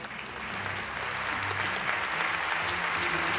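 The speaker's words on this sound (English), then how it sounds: "Clap for them." Dense, sustained applause from a large audience at the World Summit of Nobel Peace Laureates in Warsaw, holding steady and loud for the whole stretch.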